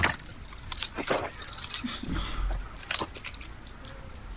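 Metal keys jangle and clink in several quick bursts, close by, while camping outdoors, with rustling and a low rumble underneath.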